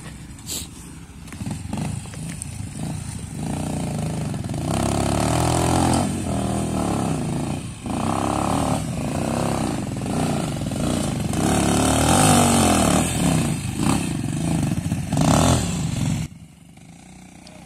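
A Rudo 200 motorcycle on an enduro trail in Parque Tunari, Cochabamba, loud and close, revving and accelerating in repeated surges with gear changes, then cutting off abruptly near the end.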